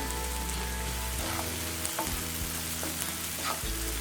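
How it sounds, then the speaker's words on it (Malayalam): Finely chopped garlic frying in a pan for palak paneer, heard as a steady close sizzle with a few soft stirring scrapes. A low constant hum runs underneath, and there is no speech. "അടുത്തതായിട്ട് ഇതിലേക്ക് നമ്മൾ വെളുത്തുള്ളി ചെറുതായി അരിഞ്ഞിട്ടുള്ളത് ഇട്ട് കൊടുക്കാം"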